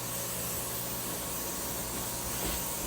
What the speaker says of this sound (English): I'm going to spray my tray with some coconut oil